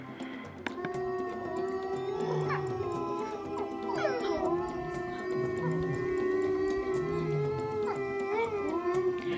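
Several wolves at a zoo howl together in long, overlapping rising and falling calls, with occasional yips, steady and moderately distant throughout.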